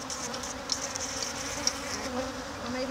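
Honey bees buzz steadily around frames at an open hive, a dense continuous drone close to the microphone with a few brief louder passes of individual bees.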